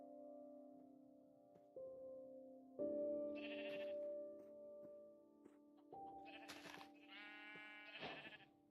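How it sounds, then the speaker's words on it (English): Sheep in Minecraft bleat in short, wavering cries: one call, then a pair of overlapping bleats, heard close over a steady, quiet game tone. "Ooh, sheep."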